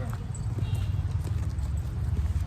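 A horse being led forward on foot, its hooves clip-clopping in a steady rhythm close by over a low, rumbling background, with voices around it.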